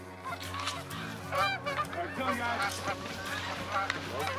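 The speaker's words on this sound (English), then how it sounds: "The big Canadian geese begin to leave the river where they rested overnight" A flock of big Canada geese leaving a river at dawn, with repeated overlapping honks in an irregular rhythm and a soft voice faintly underneath.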